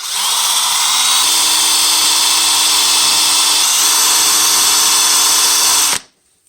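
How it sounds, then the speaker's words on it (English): A handheld power drill whirs loudly and steadily at constant speed while cleaning a lawn mower engine, running close and alone for several seconds before abruptly cutting off. "And then we'll use our drill again."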